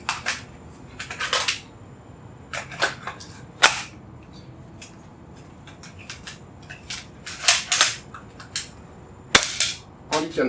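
A homemade Johnny Silverhand costume prop gun from Cyberpunk 2077 fires sharp, snappy cap-gun-like pops, single and in quick clusters, irregularly spaced over a quiet background.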